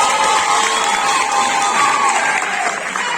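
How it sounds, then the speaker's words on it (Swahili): A lively crowd cheers, shouts and applauds loudly and continuously as a comedian is introduced on stage, with a few shrill, whistle-like tones riding over the roar. "Pigieni makofi bana."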